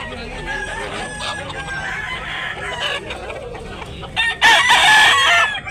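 Several chickens cluck steadily close by, then a rooster lets out a loud, strident crow near the end.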